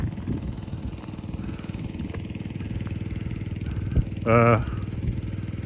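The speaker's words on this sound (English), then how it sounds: "They got their generator going for electricity, fueled by gas that was pumped by electricity." Gas-fueled generator running outdoors near an Amish church, a steady low engine drone heard from a short distance, fairly quiet with brief louder bursts.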